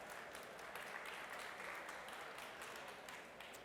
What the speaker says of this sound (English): A round of applause, please, for our startups.